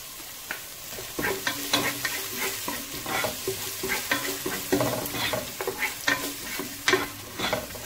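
Garlic sizzling in hot oil for rava pulav, stirred with a spoon in quick scraping strokes over a continuous close frying crackle, with no voices.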